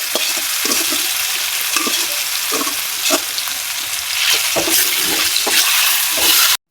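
Taro leaves frying in oil with whole dried red chilies, chopped garlic and onion, a steady loud sizzle broken by repeated stirring scrapes and clatters, no talking.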